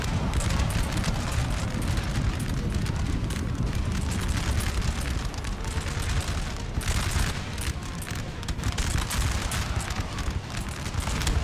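Musket volleys crackle in Napoleon Total War, a dense, continuous roll of massed gunfire with booming blasts, loud and sustained without pause, from a large battle between Russian and opposing infantry.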